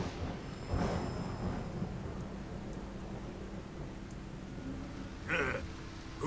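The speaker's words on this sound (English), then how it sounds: "Who's afraid of a little thunder?" Distant thunder rumbles through a stormy scene in Metal Gear Solid 3, a low continuous roll with two brief louder swells, with no talking.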